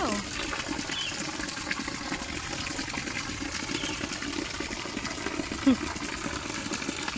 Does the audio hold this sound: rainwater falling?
yes